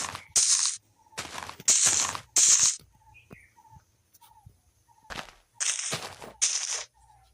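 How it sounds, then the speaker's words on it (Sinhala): Dynamite goes off in a Minecraft-style block game, giving several short, loud blasts spaced by brief quiet gaps, with faint game tones in between. "අපි ඒක ඩයිනමයිට් දාලා පුපුරමු"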